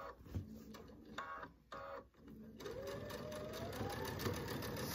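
A sewing machine stitching scalloped quilt binding, its needle running in a steady mechanical whir with short pauses and restarts, fairly quiet and close.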